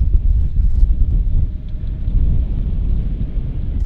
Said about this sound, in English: this wind is like a 2-club wind